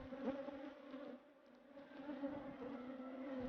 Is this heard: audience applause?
no